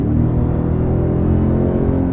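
A 2022 hybrid pickup truck with a 10-speed automatic pulls away, a loud, steady low rumble and whir under acceleration heard from close by, without talk.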